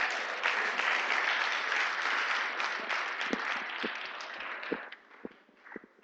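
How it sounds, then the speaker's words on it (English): Audience at a children's gardening and small-animal rearing competition in Ghana gives a sustained round of applause, dense and loud at first, then thinning into scattered claps before fading. "Shall we give her a round of applause?"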